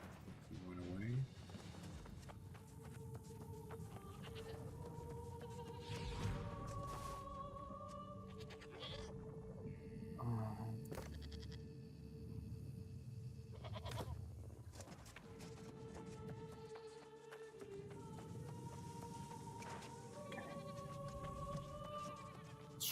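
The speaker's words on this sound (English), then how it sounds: "There's a bunch of goats here." Goats bleat repeatedly in the video game New World: Aeternum, their calls recurring over a steady bed of game music and ambience throughout, with someone talking over them.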